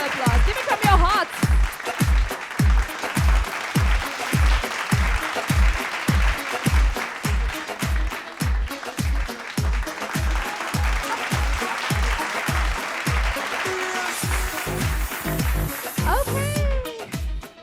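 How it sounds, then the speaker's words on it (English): A pageant crowd at the Miss Asia 2015 event claps steadily and loudly from start to end, with music and cheers rising beneath the sustained applause. "Round of applause. Give it from your hearts."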